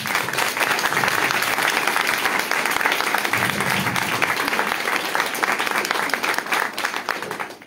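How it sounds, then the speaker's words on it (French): An audience at a conference on tarot, hosted by an association, gives a sustained burst of dense applause that stays thick and even throughout and tapers only slightly at the end. "et je voudrais qu'on les applaudisse."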